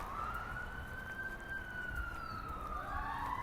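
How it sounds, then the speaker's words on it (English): A wailing siren sweeps slowly up and down in the distance, fairly faint over a low background rumble of traffic. "As soon as I say that, we hear sirens."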